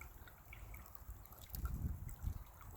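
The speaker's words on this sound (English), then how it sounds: "where the stream trickles down over these little rocks on the left" A small vernal forest stream trickles over little rocks, a faint, soft babble of water that swells slightly in the second half.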